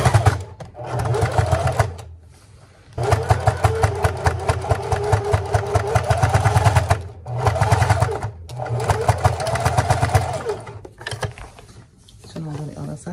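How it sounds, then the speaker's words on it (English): A sewing machine top-stitches a DIY fabric wallet, running in several loud, rapid bursts of needle chatter separated by brief pauses, close up. "just to go on my machine and do a top stitch from here down to here"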